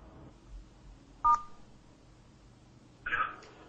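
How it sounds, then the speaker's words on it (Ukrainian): A phone number is dialed on a telephone, two short tonal beeps separated by a pause, faint and close, over a quiet room hum. "Телефоную одному з них."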